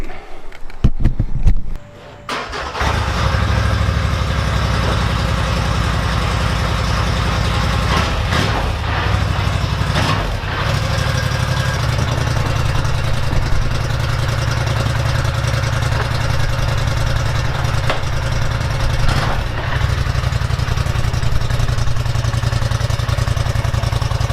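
A Scrambler ATV engine that had been flipped clatters briefly, then settles into a loud, steady running idle close by for over twenty seconds with no speech.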